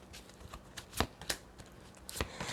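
Angel cards are shuffled by hand in a quiet room, a series of crisp riffling snaps and soft flutters in irregular bursts, close and fairly faint.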